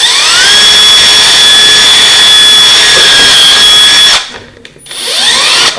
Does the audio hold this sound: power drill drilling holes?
yes